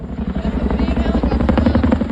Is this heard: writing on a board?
no